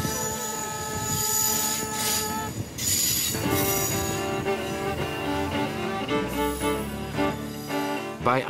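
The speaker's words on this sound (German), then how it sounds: "Der Zug hangelt sich entlang des breiten Flussbettes des Dyvi in Richtung Landesinnere." A train runs along the Cambrian Coast railway beside the broad Dyfi estuary, with continuous loud rumbling, squealing wheels and steady rail clatter close by, no voices.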